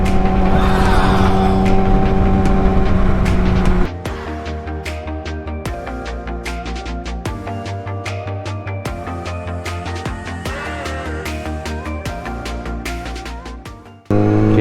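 A Kawasaki ZX-6R motorcycle on fresh Continental Sport Attack 2 tires rides a road with a passenger aboard, its engine a loud, steady close-up drone with repeated shifts and revs, dropping briefly in level near the end.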